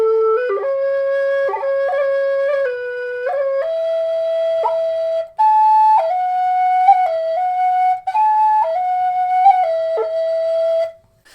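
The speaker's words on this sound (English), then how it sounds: "Now let's play that same melody on the Carbony whistle." A Carbony Highland Whistle, a whistle with highland bagpipe fingering, plays a clear solo melody of sustained notes with quick grace-note ornaments between them, bright and close, with brief pauses for breath.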